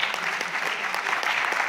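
Dense, steady audience applause fills the whole stretch at an even level, many hands clapping together with no voices rising above it.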